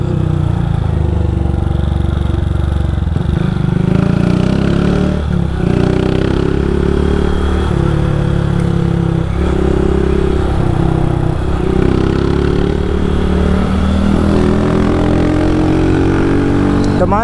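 A Honda CG 160 Start motorcycle exhaust rumbles loud and close without pause, the engine revving up and down in repeated swells with no one speaking.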